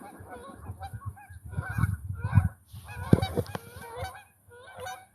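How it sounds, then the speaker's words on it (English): A small flock of Canada geese honks repeatedly at a pond in southern Illinois, a run of nasal calls rising and falling at moderate distance. "You can hear them though. Those 6 geese just came back."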